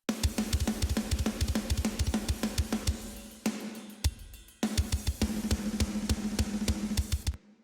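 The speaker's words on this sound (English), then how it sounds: "my drums sound like this." Programmed metal drum track with rapid, machine-precise kick drum pulses and crisp cymbal hits, loud and dense, dropping out briefly near the middle before the full pattern returns and then stops abruptly.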